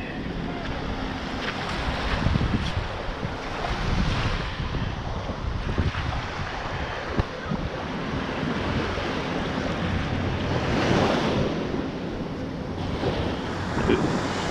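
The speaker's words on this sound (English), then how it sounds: "waves are starting to get a little rough now, but tide's coming in" Ocean surf rolls in steadily as the tide rises and the waves turn rough, with gusting wind buffeting the microphone throughout in a dense, continuous wash of water and air noise.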